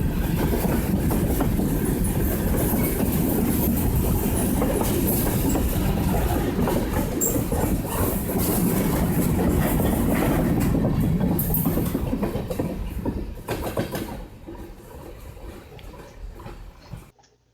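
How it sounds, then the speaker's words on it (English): A freight train on the WW Railroad's C&M Line rumbles past steadily with clattering wheels and occasional squeals, then the noise fades as the last cars go by. "As you can see, the end of the train is coming."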